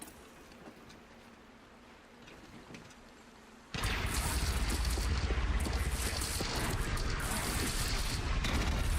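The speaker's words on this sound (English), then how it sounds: "Oseram cannon." Oseram cannon from the video game Horizon Zero Dawn opens fire at about four seconds, a sudden loud roaring barrage that continues steadily to the end after a quieter stretch of game ambience.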